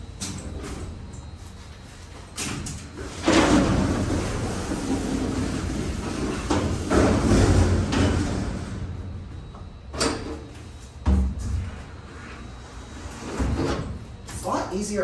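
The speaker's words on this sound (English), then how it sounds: "what we're gonna do is we're gonna open the door and exit the elevator." A vintage Dover hydraulic freight elevator's door at Harrington Tower is hauled open, with loud rumbling, sliding scrapes and heavy metallic clanks that come in bursts, plus sharp knocks toward the end.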